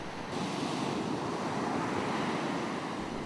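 Big sets of ocean surf crash onto a beach at a fishing spot, a steady loud roar of breaking white water with wind buffeting the microphone, no voices.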